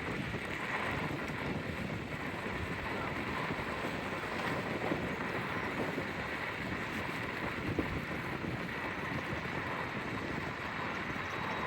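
Steady, loud wind buffeting the microphone as a constant roaring rumble throughout, with no pauses.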